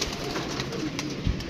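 Pigeons on a rooftop cooing softly, a low murmuring coo under steady background noise.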